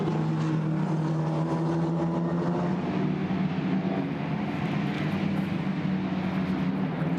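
A Formula Renault race car running flat out at Paul Ricard, a loud, steady high-revving engine drone holding constant pitch with no gear changes, close and alone.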